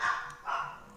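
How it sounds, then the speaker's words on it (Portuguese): Dogs bark nearby, two quick yelping barks within about a second, moderately loud and close, with no talk over them. "Ó, cachorrada aí."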